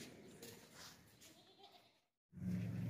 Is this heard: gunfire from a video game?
no